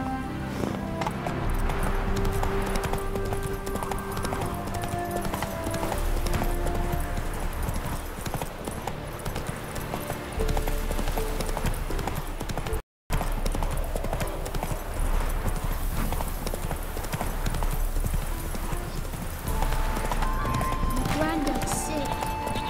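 Roach the horse's hooves clip-clop steadily in The Witcher 3 as she moves at pace, with a brief whinny, game music underneath and a voice speaking over the hoofbeats.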